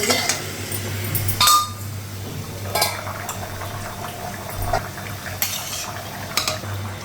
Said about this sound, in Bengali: আর কিছুটা ভাজবো তাহলে লুচিটা ভাজা হয়ে যাবে